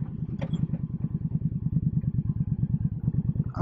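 A motorcycle engine thumps in a fast, even pulse while riding, a close steady throb with faint clatter over the whole stretch.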